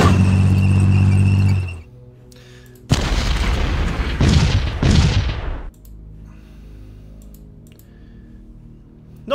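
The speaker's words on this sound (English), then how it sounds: "Not sure how my Jagdpanther column got stopped by a few mortar shells" Mortar shells explode in the strategy game Decisive Campaigns: Ardennes Offensive, a loud burst of several close booms after a tonal hum, followed by quiet clicks.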